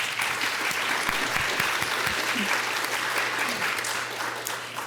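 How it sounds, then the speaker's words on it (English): An audience at a U.S.-China research collaboration panel event gives a sustained round of applause, dense and fairly loud clapping that continues for about five seconds before starting to fade. "Let's please give Mark Cohen a round of applause."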